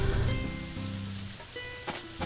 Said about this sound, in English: please do not stop raining for the love of everything